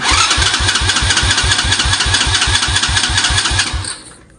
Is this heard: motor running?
yes